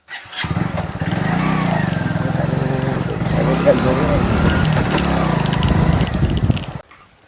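A motorcycle engine runs close by with a loud, steady putter that settles into a continuous drone for several seconds, then cuts off abruptly near the end, with people talking around it.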